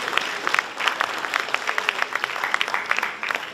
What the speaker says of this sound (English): A huge applause again to him.